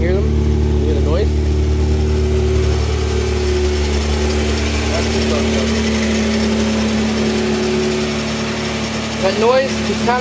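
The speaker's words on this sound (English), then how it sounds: "That noise is kind of like a clacking, rattling sound." A Mazda MX-3 engine idles steadily and loudly up close, with a continuous low hum carrying a clacking, rattling noise, while someone talks over it.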